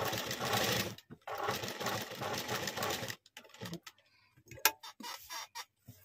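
A sewing machine stitches the back of a blouse in a steady, dense run for about three seconds, stops briefly, then resumes; sparse ticks and handling clicks follow the stop.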